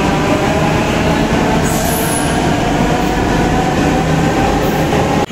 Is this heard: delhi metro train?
yes